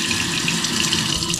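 Water streams steadily from a Kohler Tyne pull-down kitchen faucet into the sink, a constant close hiss of running water with no talk over it.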